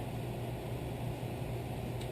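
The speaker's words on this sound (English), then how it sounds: "Excuse the noise, but I've got my furnace running in the garage." Steady low mechanical rumble and hum of a furnace running in a garage, constant and unbroken, with no voices.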